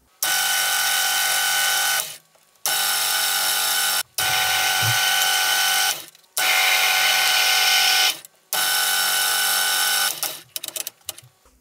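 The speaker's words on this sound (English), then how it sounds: "I'm going to be cutting the lathe's cross-slide tap, so I need to remember to reverse the lead screw." A lathe cuts a tandem ACME tap with a flat-topped high-speed steel cutter, giving a loud, steady mechanical whir in four runs separated by brief stops, with scattered clatter at the end.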